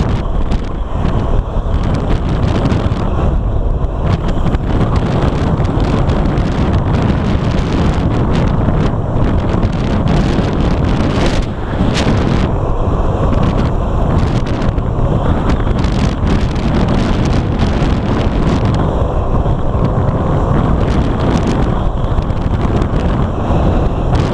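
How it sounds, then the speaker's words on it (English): Loud, steady wind roar buffeting a helmet microphone while riding a motorcycle, a constant rushing blast with no pauses and no voices. "I feel that this helmet is louder with wind than my other one"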